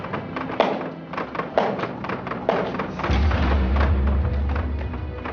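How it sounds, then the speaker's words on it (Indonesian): Hard hammer knocks on a kris dagger, three heavy thuds spaced about a second apart, followed by a low rumbling hum. "Ini dia setiap kali getok, gue getok lagi yang keras."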